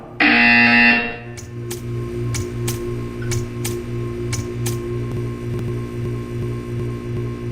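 A buzzer in the video game Portal 2 sounds as one loud, steady electronic tone for about a second. A faint, regular ticking continues afterward over a low mechanical hum.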